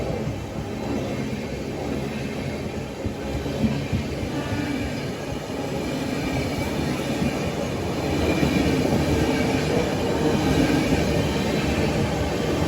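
A passenger express train on the Visakhapatnam to Prayagraj route runs on the rails, heard from on board as a steady low rumble with wheel noise that grows slightly louder partway through.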